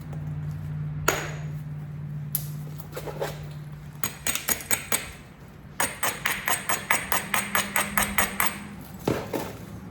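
Hammer blows spalling a raw head of coral: an opening strike, then rapid sharp clacks in two bursts of about ten rhythmic hits each, close and crisp over a low steady hum.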